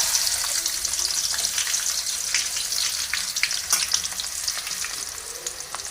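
Chopped onions fry with a cinnamon stick in hot oil, a dense, close, continuous sizzle with crackling pops and brief stirring scrapes throughout.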